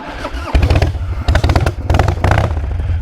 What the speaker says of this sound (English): why don't you ever do videos of starting your motorcycle?